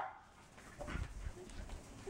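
Female dog whining and giving short yips and barks during a fetch game, close and fairly quiet, with brief irregular bursts over background noise.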